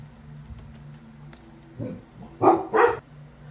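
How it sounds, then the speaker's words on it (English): A pet dog barks indoors, first a few soft muffled sounds, then three sharp loud barks close together near the end against a quiet room hum. "So my dog started barking again, so I had to pause the video again."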